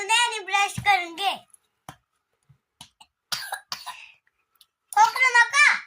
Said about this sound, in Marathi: खोकलं नका.